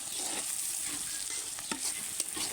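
Meat sizzles in a pan with chopped green chillies, a steady close frying hiss broken by a few stirring scrapes and pops.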